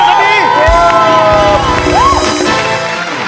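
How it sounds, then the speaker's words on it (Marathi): A studio audience at a Marathi comedy show cheers and whoops loudly in a dense wave of shouting and excited voices, with applause blended into the crowd noise. "जोरदार टाळ्या त्यांच्यासाठी."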